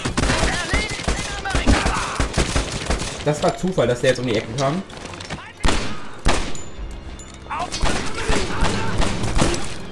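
Machine gun fire and other gunfire in the World War II shooter game Medal of Honor Airborne, loud rapid bursts and explosive cracks crowding the scene while someone talks excitedly over the action.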